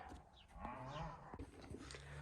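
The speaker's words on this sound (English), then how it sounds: "That's where the mooing is coming from. Cows over there." Cattle moo outdoors near a workshop, drawn-out low calls heard faintly at a moderate distance, with no talking.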